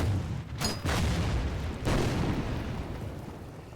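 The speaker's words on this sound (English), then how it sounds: "let's use the mortar on them as well" Mortar fire in an Order of Battle World War 2 strategy game, a few deep booming blasts in quick succession followed by a rumbling, fading tail.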